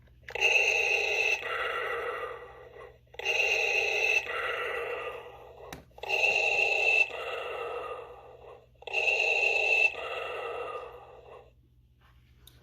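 A 2022 Hasbro Black Series Darth Vader helmet plays its button-triggered breathing effect: four steady mechanical inhale-exhale cycles with short pauses between them, close and clear, with no talking.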